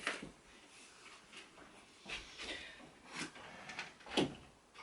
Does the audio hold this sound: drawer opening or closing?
yes